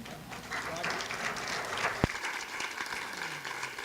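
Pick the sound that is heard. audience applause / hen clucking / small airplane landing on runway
audience applause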